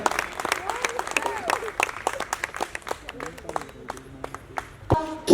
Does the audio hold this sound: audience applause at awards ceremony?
yes